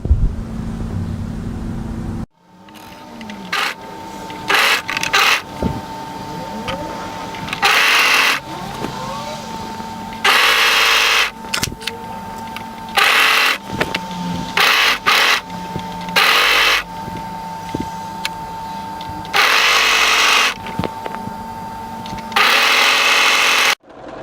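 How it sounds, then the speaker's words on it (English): An overlocker stitches a sleeve into a jacket armhole, running in a series of short whirring bursts separated by pauses, loud and close with a steady mechanical hum. "we're going to overlock the sleeve into position through the armhole edge from the side seam through to the shoulder seam"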